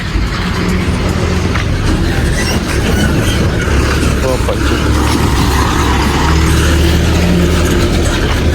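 A vehicle arriving on a farm to deliver banana plants, a continuous loud engine rumble up close, with people talking over it.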